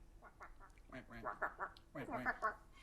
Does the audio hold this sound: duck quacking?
yes